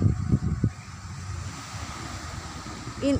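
Steady roar of surf at a beach in North Aceh, with wind noise buffeting the microphone, a few low thumps near the start and a brief tonal sound at the end.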